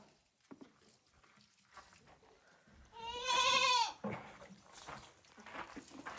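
A single loud, wavering sheep bleat rings out close by amid quiet outdoor background noise.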